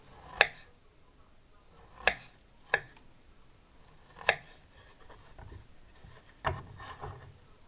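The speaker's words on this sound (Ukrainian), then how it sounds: "Ківі нарізаємо такими кружальцями" Kiwi sliced into rounds with a knife for a quick cake, giving five separate sharp chops on a board spaced a second or two apart, close and fairly quiet.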